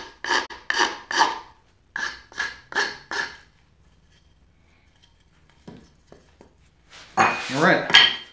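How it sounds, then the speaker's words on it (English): A file chamfers the inlets of a wooden spice rack: two runs of short, crisp rasping strokes in quick rhythm, then a near-silent pause, then a louder, longer scraping pass close by. "Wouldn't be a bad idea to chamfer the inlets either."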